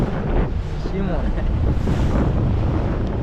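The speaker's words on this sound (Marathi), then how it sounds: "बघा वारा बघा किती आहे तुम्हाला पाण्याच्या लाटावरून समजत असेल" Loud, gusty wind roars across the microphone over the rush of waves against a fishing boat at sea, a constant heavy blast throughout.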